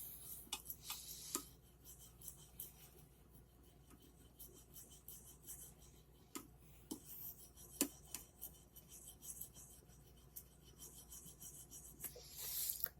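A knife is sharpened on a VENEV Gemini curved metallic bonded diamond stone, giving quiet, close rasping strokes in uneven bursts with a few sharper scrapes and pauses between them.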